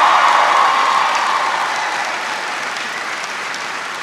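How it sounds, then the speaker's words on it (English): A town hall crowd in Elyria, Ohio gives loud, dense applause that stays full and steady and then slowly tapers, with faint cheering woven through the clapping. "Give him a big round of applause."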